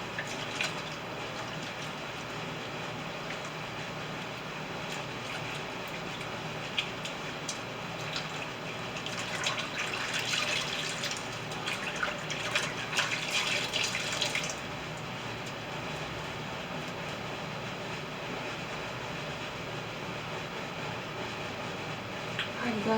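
Running tap water splashes over hands being washed at a kitchen sink while making a homemade apple pie, a steady hiss with a louder, busier stretch midway, fairly close and with no talking.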